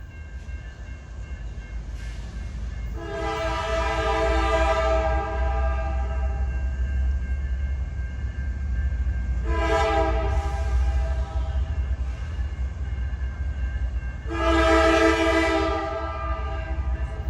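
A freight train rolls past with a steady low rumble while its K5 air horn blasts three times, long chords ringing loud and close, no voices.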